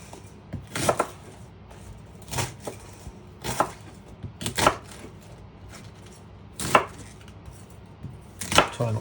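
Kitchen knife chopping cabbage on a cutting board, about eight separate sharp chops at an uneven, unhurried pace, close and clear with no talking.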